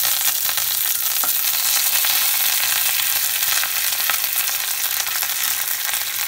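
Curry leaves hit hot oil in a pan for poha, giving a loud, continuous, close sizzle and spatter that holds steady throughout with no talking.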